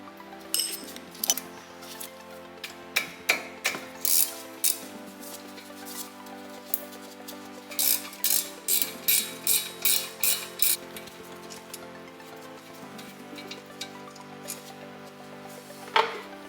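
Ratchet socket wrench working on brake bolts of a Toyota GR86, bursts of rapid ratcheting clicks in several runs with pauses between, close and clear, no talking.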